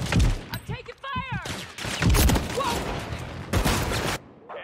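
Gunfire in the video game Modern Warfare 3 comes as sharp bursts and shots, close and loud, overlapping with a player's shouting voice and clattering game effects.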